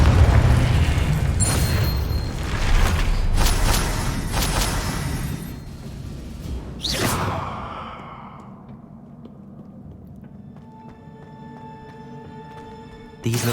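The Confringo fire spell in Hogwarts Legacy goes off with a sudden whooshing blast near the middle, following a dense stretch of magical combat noise and then trailing off into a quieter, ringing tail.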